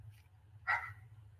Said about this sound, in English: You're making my dog bark.